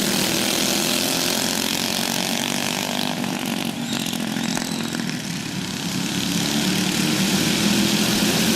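Several open-wheel go-kart engines race together in a backyard track event, a dense, loud buzzing whine that swells and fades slightly as karts pass, with no talk.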